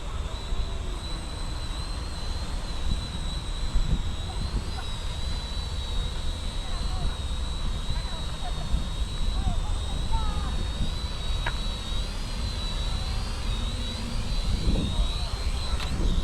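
A VICKY 4DRC F10 GPS drone descends to land outdoors, giving a steady, high, whining motor and propeller hum that holds level, with someone talking over it.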